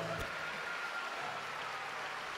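Faint, distant audience applause after a chacarera folk performance, a continuous even patter of clapping with no voices standing out.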